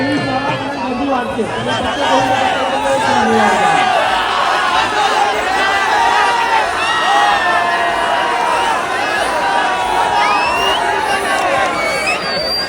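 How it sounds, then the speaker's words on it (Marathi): Dense festival crowd chatter with many overlapping voices, children's shouts and occasional whoops, a loud steady hubbub all around. "भरपूर गर्दी आहे"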